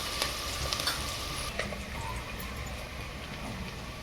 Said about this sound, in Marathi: हां कांदा जरा परतून घेते.